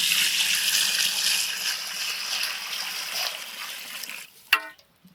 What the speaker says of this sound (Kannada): ತರಕಾರಿ ಬೆಂದಿದೆ, ನೀರು ಹಾಕಂತೀನಿ.